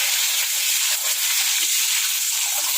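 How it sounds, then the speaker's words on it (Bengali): Eggs frying in oil in a pan for an egg curry, a steady, loud, close hiss and sizzle with faint crackles throughout. "ডিমটা ভাজা হোক"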